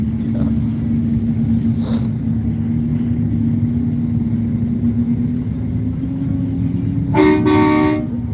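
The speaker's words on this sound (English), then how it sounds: "He's got a train horn on it" A loud, deep multi-tone train horn fitted on a large truck blasts briefly near the end over steady traffic rumble, after a couple of shorter, fainter toots earlier.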